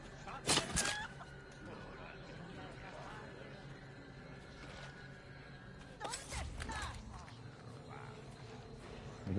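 Game chicken from Resident Evil 4 clucks in two short bursts near the start and around six seconds, over low game ambience with faint background voices.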